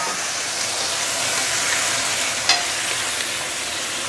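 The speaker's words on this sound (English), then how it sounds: "Now is the time where you can actually put in the pork." Pork leg dropped into caramelized sugar in a hot wok, a dense steady sizzle and stir close up, with a short sharp clink of a utensil midway and no talking.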